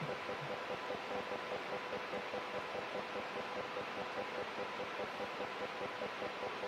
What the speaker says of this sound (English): that's the HVAC system's working.